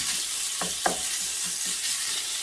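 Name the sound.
ground beef frying in oil in a pan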